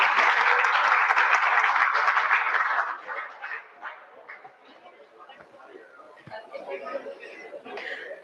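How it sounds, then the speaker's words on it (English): Audience applause after a lecture at an international R&D conclave on emerging technologies, loud and dense for about three seconds, then thinning into scattered claps and murmuring voices. "So give a big round of applause for sir."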